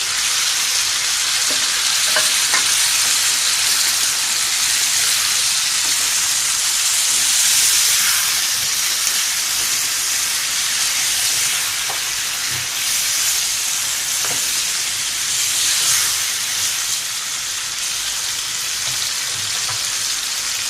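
Chicken karahi sizzles steadily in oil with tomatoes as it is stirred, a continuous bright frying hiss with occasional soft scrapes, close and fairly loud, with no talking.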